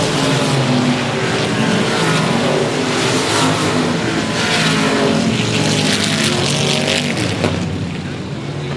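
Factory stock race cars roaring around the 105 Speedway oval, a loud, continuous wall of engine noise with revving passes and crowd-level din throughout, no pauses.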